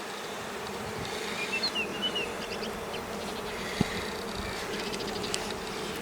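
Honey bees hum and buzz around the hive frames in a steady, close drone, with a few wing whines passing nearby and one short tap partway through.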